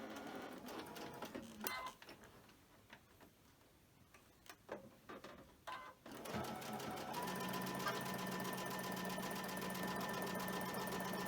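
A sewing machine chain-stitches quilt pieces. A few faint handling clicks come first, then the motor starts a steady, close, continuous whir with a rapid needle patter.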